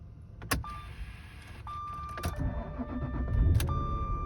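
A Jaguar Vanden Plas engine cranks and struggles to catch on a jumper pack, with several sharp clicks and chimes from the dashboard in a quiet interior.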